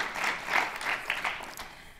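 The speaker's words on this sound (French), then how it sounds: "On peut applaudir le commandant Claire." Applause from a round-table audience, fairly faint and brief, with a few louder bursts of clapping that fade toward the end.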